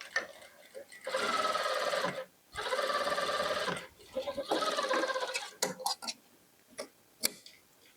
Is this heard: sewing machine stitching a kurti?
yes